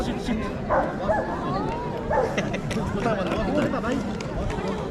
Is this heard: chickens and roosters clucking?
no